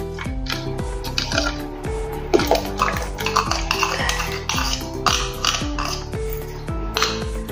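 A metal spoon stirring custard mixture into milk in a pot, with repeated clinks and rhythmic scrapes, loud and close.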